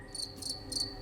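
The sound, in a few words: crickets chirping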